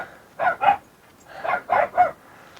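Dogs bark in two quick pairs and a trio of sharp, mid-distance barks separated by a short pause, with no talking.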